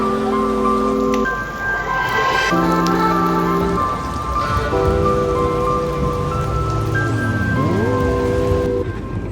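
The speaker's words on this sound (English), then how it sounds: "It's raining right now." Steady rain falls throughout at a constant level, mixed with sustained tonal hums that shift in pitch.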